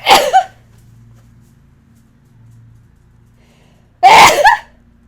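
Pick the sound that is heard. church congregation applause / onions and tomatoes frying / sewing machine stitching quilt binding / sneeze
sneeze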